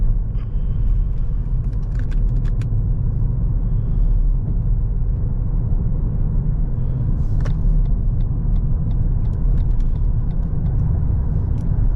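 A Lexus NX350h hybrid SUV cruises on the highway at steady speed, with a continuous low road and engine rumble and some faint clicks and ticks on top.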